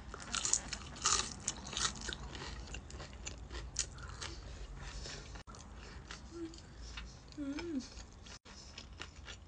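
Crisp crunching bites of Jollibee fried chicken and chewing up close, with wet mouth sounds and a few brief pauses, no talking.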